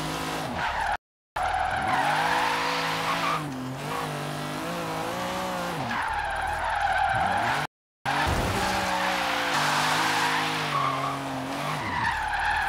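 Tires screech and skid as a car drifts in the racing video game Forza Horizon 3, with long sustained squeals over a revving engine. Two brief cuts to silence interrupt the otherwise continuous, close sound.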